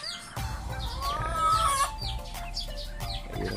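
A Gary Gilliam roundhead gamefowl chicken at an expo clucks in short, repeated calls, with chirping birds and a steady hum of crowd noise around it at moderate distance.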